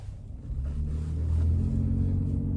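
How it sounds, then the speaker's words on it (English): A 2026 Nissan Armada NISMO SUV driving on the road, heard from inside as a steady low engine and road rumble that swells slightly as it gets under way, with no talking. "let's go ahead and take this 2026 Nissan Armada NISMO out on the road for a test drive"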